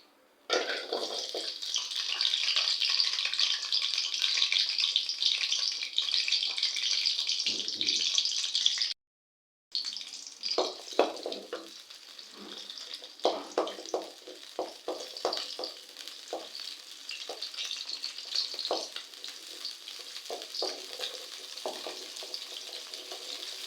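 Small onions hit a hot kadai and fry with a loud, steady sizzle that cuts out briefly, then resumes amid clattering stirring strokes and scrapes, the crackle continuing at a lower level; nobody speaks.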